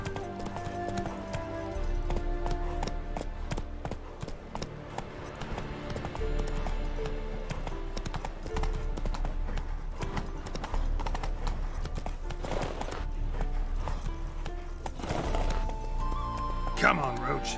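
Hooves of Geralt's horse Roach galloping in The Witcher 3, a steady rapid clip-clop running through the whole stretch, mixed with game music and a shouted voice, with a brief whinny near the end.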